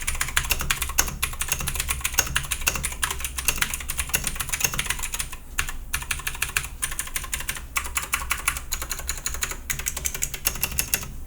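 Rapid, continuous clacking of fingers typing on an Akko 3084 Bluetooth 75% mechanical keyboard, close and crisp with dense irregular keystrokes and only a brief pause partway through.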